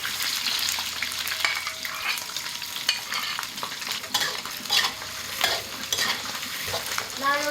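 Cured pork hits a hot wok already fragrant with ginger, garlic, Sichuan pepper and chilies, crackling and sizzling loudly up close while a spatula scrapes and stirs in repeated strokes; no talking.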